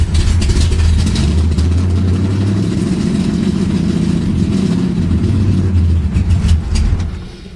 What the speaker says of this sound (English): Like I said, only fires on half the motor.